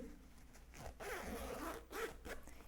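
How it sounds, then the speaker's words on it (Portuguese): A zipper on fabric is pulled open during sewing, giving a couple of close, raspy sliding bursts of moderate loudness with no talking. "Aí sim, você abre o zíper"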